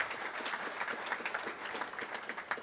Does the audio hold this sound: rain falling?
no